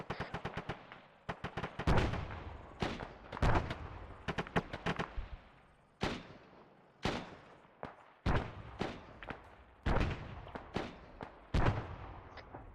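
Arma 3 gunfire during a squad firefight, sharp shots and short bursts cracking out irregularly at moderate distance, some in quick clusters, with echoing tails between them.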